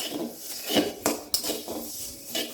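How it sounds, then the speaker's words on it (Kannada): Coriander seeds roasting in a pan, with metal clinks and scraping as a utensil stirs them, plus several sharp clatters, close and moderately loud, with no talking. "ಕೊತ್ತಂಬರಿ ಸ್ವಲ್ಪ ಗಮ್ಮ ಅಂತ ಪರಿಮಳ ಬರೋ ತನಕ ಹುರ್ಕೊಳ್ಳುವ"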